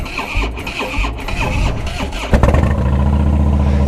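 A motorcycle with a freshly repaired, damaged battery cable and a suspect fuel pump and battery cranks for a couple of seconds, then catches and settles into a loud, steady close-up idle.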